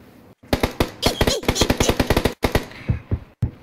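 Automatic gunfire in the PUBG battle royale game: loud, close bursts of rapid shots in quick succession, with a few brief pauses and a final single shot.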